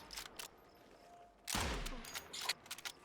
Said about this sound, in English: I'm just shooting at this guy over here